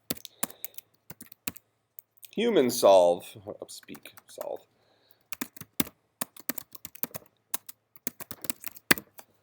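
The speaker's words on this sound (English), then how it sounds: "I'm not typing that well tonight." Fingers tap rapidly on a computer keyboard in sharp, irregular bursts of clicks, pausing briefly while someone speaks a few words before the typing resumes.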